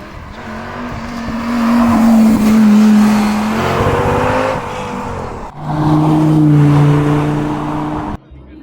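A Lamborghini Gallardo supercar at a charity supercar gathering drives close by, its engine loudly revving up through two rising bursts before cutting off abruptly near the end.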